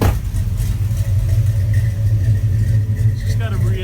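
A 1971 Dodge Charger sits idling nearby with a lumpy, uneven rumble that stays steady and loud, while someone talks over it.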